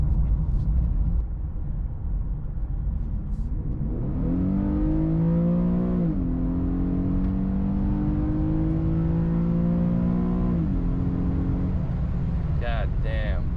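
An Infiniti Q50 with the 3.7-litre engine accelerates hard from inside the cabin, its engine note climbing steadily through a gear, easing briefly, then rising again over road rumble before settling.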